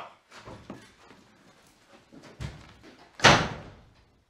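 A door slams on the set of the 2017 horror film IT, a single loud, sharp bang near the end after quieter shuffling and small knocks.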